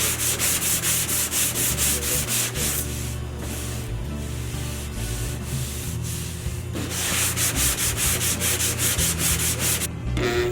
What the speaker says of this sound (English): he's applying a little bit of filler to that dent he repaired